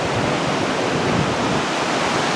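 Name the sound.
river flowing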